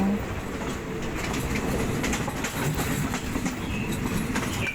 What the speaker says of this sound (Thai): ตอนนี้รถกำลังเข้าสู่ ย่านสถานีชุมทางทุ่งสงแล้ว